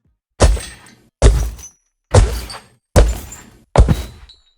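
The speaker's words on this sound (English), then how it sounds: "when walking, you can hear the chains banging against the chains" Five heavy clanking thuds from the Minecraft Ravager walking, its chains banging against its metal body, each strike loud and close with a ringing metallic decay, spaced at an even plodding pace.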